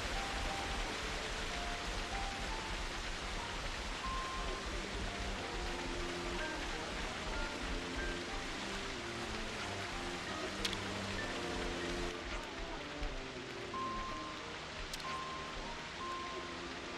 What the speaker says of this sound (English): Seems like the rain's coming.